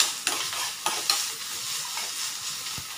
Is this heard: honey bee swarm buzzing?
no